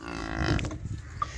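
A young calf moos once, close by, a short lowing call that fades out, followed by faint farmyard background noise.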